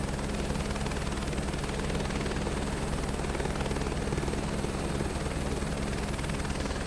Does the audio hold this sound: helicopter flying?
yes